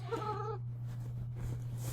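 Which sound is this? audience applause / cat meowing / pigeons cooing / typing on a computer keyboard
cat meowing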